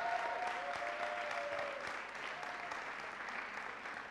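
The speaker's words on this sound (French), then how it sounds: "Ils sont là, ils vous applaudissent bien" A church congregation applauds a newly married couple with steady, even clapping. It sounds soft and distant throughout, with a faint tone near the start.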